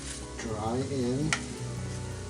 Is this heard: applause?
no